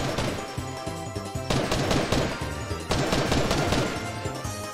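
Rapid gunfire bursts from the video game Fortnite, loud and dense, with repeated shot clusters layered over game music and effects, no talk.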